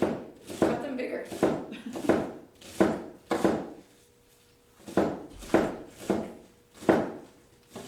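A knife chops celery into small pieces for a salad, a steady series of sharp, close chops on a cutting board with brief pauses between runs, loud and clear with no voice over them.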